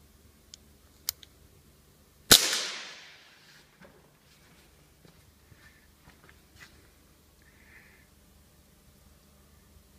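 A Crosman 2240 CO2 air pistol on a 12-gram cartridge fires a single sharp, loud crack that rings off with a brief decay, followed by quiet room tone with faint ticks and small handling noises.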